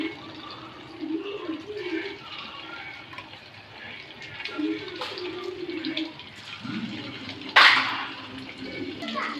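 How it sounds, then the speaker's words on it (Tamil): Water bubbling and churning in a pot as it comes to a boil for chicken fried rice, a continuous watery rush with a louder splash near the end, no talking. "இப்போ தண்ணி நல்லா கொதிக்குது"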